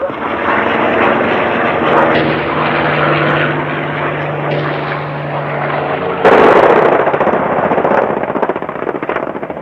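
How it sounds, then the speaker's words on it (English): American military propeller aircraft drone loudly overhead during a bombing raid near a besieged town in Vietnam, a dense, rumbling engine roar that swells sharply partway through and stays strong to the end. "American planes are bombing only a few hundred yards outside the town"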